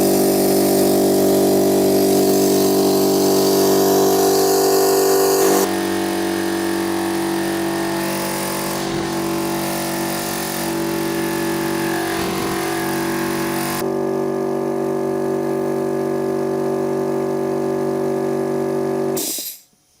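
An air compressor pumping up to 8 bar runs loud and steady with a constant motor drone, shifting pitch slightly partway through and cutting off abruptly at the end.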